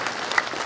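An audience claps at a village event in Panjalu, a short stretch of dense, steady applause from a crowd.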